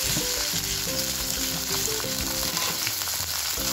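Chicken fries in hot oil with golden onions for a spicy biryani, a loud, steady sizzle and crackle filling the whole stretch with no voices.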